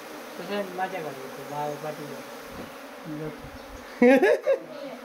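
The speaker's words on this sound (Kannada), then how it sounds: "ಹರಿಶಣ್ಣನ ಮನೆ ಒಳಗಡೆ ಒಂದು ಜೇನು ಬಂದಿತ್ತು" A honeybee swarm inside a house makes a buzzing drone with fluctuating wing tones, rising to a louder, closer burst of buzzing near the end; faint background sounds accompany it.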